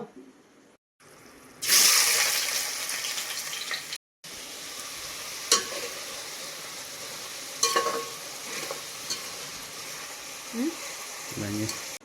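Chopped onion drops into hot oil for a chicken curry, bursting into a loud sizzle that settles into steady frying, broken by a few stirring scrapes and clatters nearby.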